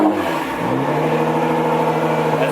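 Straight-piped R35 Nissan GT-R engine revving loud and near, a raspy droning exhaust note climbing and holding high revs for a couple of seconds.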